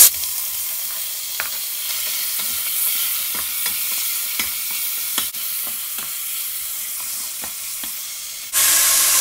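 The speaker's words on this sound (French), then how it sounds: "j'ajoute de l'huile d'olive, sinon vous utilisez l'huile de votre choix. Ma plaque, elle était déjà chaude. Donc là, j'ajoute les saucisses que j'ai coupées." Sliced smoked turkey sausages fry in olive oil in a hot pot with a loud, steady sizzle. Sharp clicks of stirring break in now and then, and a louder burst of sizzle comes near the end.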